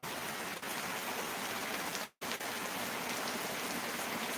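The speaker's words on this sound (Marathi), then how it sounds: "किती जोरात पाऊस इलो हा बघा" Heavy April rain in Kudal, Sindhudurg, Konkan, pours in a constant loud hiss, briefly cut by a short silent gap partway through, then resumes unchanged.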